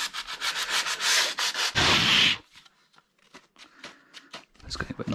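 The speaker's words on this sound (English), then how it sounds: "some 180 grit paper either side of it. And then I can slide this on the angle underneath and bevel that front edge" Sandpaper of 180 grit rasps back and forth along a bevelled front edge on a model aircraft part, with brisk close strokes in quick bursts that pause and resume with lighter scuffs.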